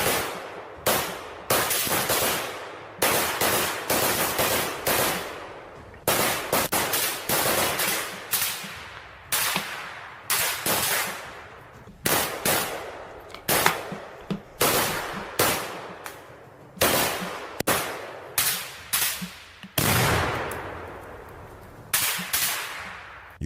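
Rapid bursts of small-arms fire traded between Ukrainian and Russian soldiers, loud and close, with sharp volleys and short automatic strings repeating irregularly with brief gaps, no voices.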